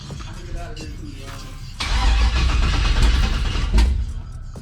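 A 1968 Chevrolet Impala engine cranking over without catching, a loud rhythmic starter churn kicking in partway through and running for about two seconds, with quieter shop ambience before it.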